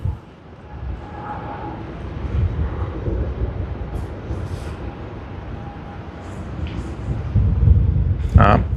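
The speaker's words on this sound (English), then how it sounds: "in the background we see a takeoff roll happening on runway 16L" An airliner on its takeoff roll down runway 16L at Sydney Airport, a distant low rumble that swells toward the end, with people talking over it.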